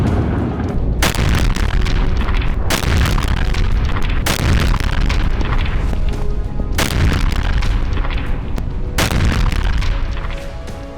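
Israeli bombs and rockets strike Gaza in a relentless series of loud, deep explosions, several sharp blasts landing every second or two over continuous booming rumble, with no voices heard.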